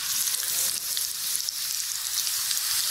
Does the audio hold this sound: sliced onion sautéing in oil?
yes